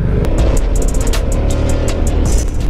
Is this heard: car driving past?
yes